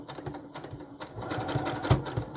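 A sewing machine stitches through thick broderie anglaise fabric, its needle running in a fast, even mechanical rhythm up close, with a few heavier thumps where it pushes through the dense layers.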